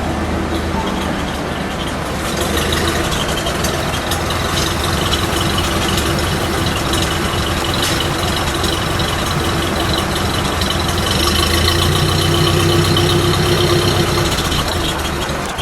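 A 1929 Ford Model A Roadster engine idling just after starting, a close, loud, steady low mechanical rumble with a rough, continuous chug and no speech.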